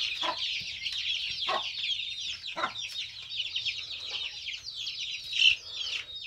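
A hen clucking steadily close by, with the high, thin peeps of her many chicks, a free-range brood of about 27, chirping continuously over the top.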